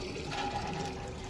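Water runs steadily into a copper vessel being filled at a temple, a continuous close rushing and splashing that holds an even level throughout, with no voices.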